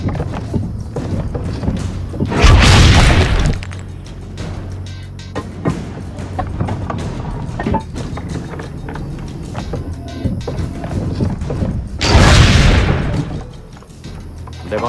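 Cannon fire in the Assassin's Creed Brotherhood video game: two loud, booming shots roughly ten seconds apart, each with a heavy rumbling tail, with quieter activity between them.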